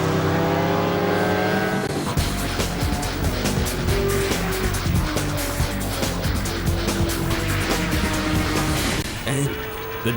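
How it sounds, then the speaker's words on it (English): Race car engines roar continuously at high volume, with harmonic whines rising through gear shifts and tyre squeal, close and loud under a voice talking over them. "the deafening noise of the roaring engines will take you to another level."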